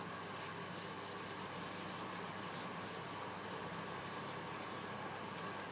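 A rag wipes a coat of finish onto wood, giving a soft, continuous rubbing and scrubbing sound with faint repeated strokes, close and quiet.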